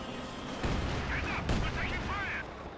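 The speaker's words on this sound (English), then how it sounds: "Especially with all the mortar shells landing." Shells and artillery fire boom in a WWII strategy video game, with two heavy thuds around a steady rumble of battle noise, while a voice talks over the action.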